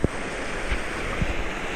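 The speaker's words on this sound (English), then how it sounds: "This is the stream." Village stream flowing past, a steady broad rush of water with wind buffeting the microphone and a few low thumps, close and fairly loud.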